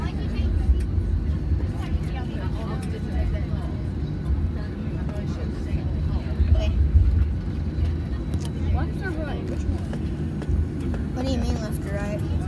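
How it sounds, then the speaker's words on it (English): An airliner rolls down the runway for takeoff, heard from inside the cabin as a continuous low engine roar and rumble, with a person talking over it. "I'm just gonna just vlog through takeoff."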